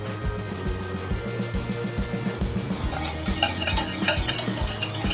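A spoon stirs olive oil into Turkish pide dough ingredients in a bowl. Quick, rhythmic scraping and clinking repeats close up and grows busier toward the end, with no voices.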